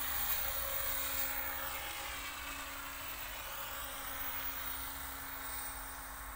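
OMPHOBBY M4 Max RC helicopter in flight gives a steady, fairly quiet high-pitched motor whine with a constant rotor hum, heard from a moderate distance without talking.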